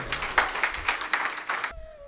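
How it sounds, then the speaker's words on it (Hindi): Devotional audience clapping along during a Gita Jayanti kirtan in Australia, a run of steady rhythmic claps for nearly two seconds that stops abruptly, leaving a faint tone. "दोनों हाथों से ताली बजाओ और कीर्तन करो"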